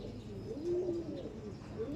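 A pigeon or dove coos near at hand, a low soft warbling call that swells and fades, with another brief coo toward the end over quiet background hiss.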